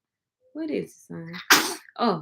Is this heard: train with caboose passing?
no